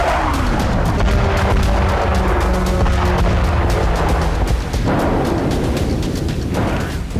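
Loud, continuous rumbling blasts from Israeli air strikes on Iranian cities, heavy booms rolling one into another with a dense roar throughout and no voices.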